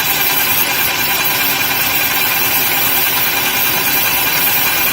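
A Graco paint sprayer pump runs steadily at close range, giving off a loud, continuous mechanical hum with a broad hiss and no break over the whole stretch.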